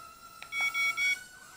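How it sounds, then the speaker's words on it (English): Eachine E10W mini drone giving a series of three short electronic beeps in quick succession, thin and tonal, fairly faint over a quiet background. "You can hear it beep."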